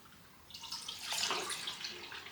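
Liquid pours steadily for a couple of seconds, a soft splashing trickle that swells in the middle, close by with no talking.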